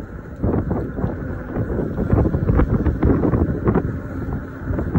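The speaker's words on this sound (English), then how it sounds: "I tell you, this wind is irritating" Gusty wind buffeting the microphone on the north side of Livingston, Montana, a loud low rumbling roar that surges and fades continuously without a break.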